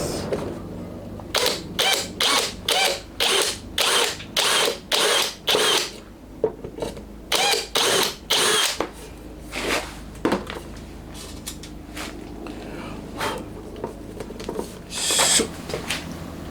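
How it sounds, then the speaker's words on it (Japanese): A nut rivet tool sets a rivet into a replica Honda RC146 motorcycle seat, producing a rapid series of about a dozen sharp, regular mechanical bursts, then a pause and softer scattered clicks and handling noises, close and loud with no talk. "よし、とりあえずナットリベットが効くかチェックですね。 一箇所やってみます。"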